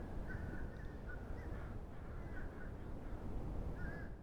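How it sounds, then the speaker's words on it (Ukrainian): Repeated crow-like caws from birds flying in a video game ring out over a steady, dense background rumble, several short calls scattered across the clip. "Ну, пташки полетіли."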